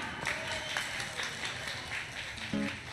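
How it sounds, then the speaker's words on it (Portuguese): Concert audience clapping for band members at a live radio show, a soft, distant patter of applause with a few louder individual claps and brief tonal hints of the stage beneath it. "Uma salva de palmas na percussão"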